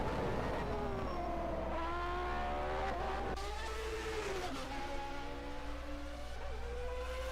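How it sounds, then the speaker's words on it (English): A Formula One car from a 1991 racing game at the Canadian Grand Prix whines steadily through its gears, engine pitch sweeping down and up as it brakes into the opening turns, with faint tire squeal, alone and at moderate level. "Downshifting now for first 2 turns"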